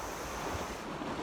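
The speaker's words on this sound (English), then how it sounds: "Just using the sound of those waves to let go." Ocean waves wash steadily in a continuous, even roar of surf, with a breezy hiss and no voices over it.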